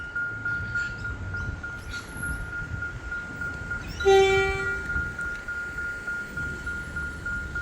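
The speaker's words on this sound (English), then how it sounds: "Oh, there we go. The train's going now." A train at the Giffard Street level crossing in Williamstown Beach, Victoria, sounds a short sharp horn blast midway over a steady rumbling background of rail noise, with a high ringing tone running throughout.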